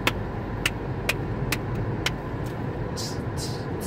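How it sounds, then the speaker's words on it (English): Steady road rumble from inside a moving car, with a few sharp ticks and a faint hiss near the end. "that's what driving sounds like"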